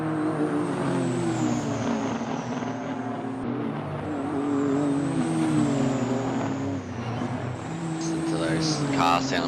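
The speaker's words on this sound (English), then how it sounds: "It's just really nice sounding cars in this field." GT3 racing car engines in a video game roar steadily at Fuji, a dense continuous drone of several cars at high revs, with a commentator talking over it.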